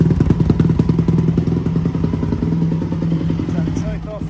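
A 2008 Yamaha YZ450F dirt bike engine runs close by with a rapid, even thumping idle and mechanical clatter, steady and loud throughout.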